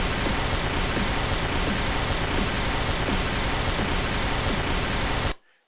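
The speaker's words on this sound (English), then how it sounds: "I'm going to put the pink noise at -6 instead." Pink noise test signal set at -6 fills the clip with an even, dense hiss, faint regular ticks riding on top, before it cuts off abruptly near the end.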